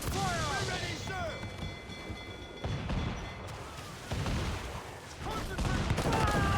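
Ship cannons firing in the naval battle game Assassin's Creed 4 Black Flag, repeated heavy booms over rumbling battle noise, with crew voices shouting.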